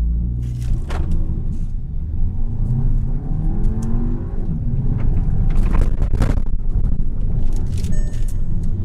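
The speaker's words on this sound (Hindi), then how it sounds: "Raving the engine." A 2020 Skoda Superb 2.0 TSI car engine revs up and down repeatedly, a loud close rumbling roar that rises and falls throughout.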